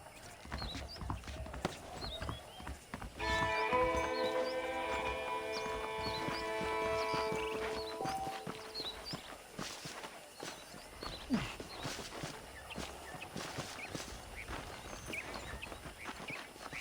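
Horse hooves clip-clopping at a walking pace in the western video game Red Dead Redemption, steady soft footfalls under game ambience with a sustained musical tone partway through.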